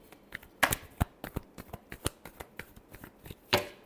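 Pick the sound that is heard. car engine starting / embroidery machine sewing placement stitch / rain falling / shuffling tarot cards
shuffling tarot cards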